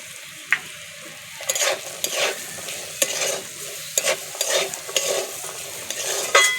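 Peas, potatoes and spices including ground black pepper fry in a pan, a soft continuous sizzle broken by repeated scraping strokes of a spatula stirring the mixture, close and clear with no talking.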